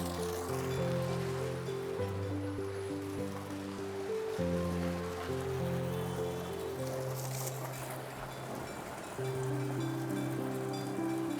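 River water rushing where the Ganga and Yamuna streams meet, a steady broad wash of flowing water running throughout beneath sustained tonal music.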